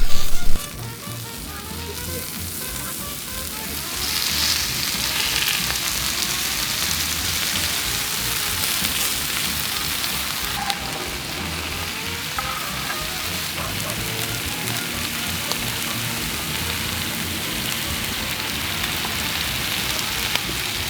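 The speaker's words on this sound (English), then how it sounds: "we're going to pre-cook them on the griddle to give them a little bit of extra flavor" Cajun pepperoni and tasso ham sizzling on a Blackstone griddle, a steady, dense hiss of frying meat held close and constant for the whole stretch.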